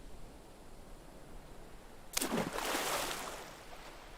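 A seagull dives into water, making a single close splash that breaks a quiet background and trails off into a washing, spraying hiss.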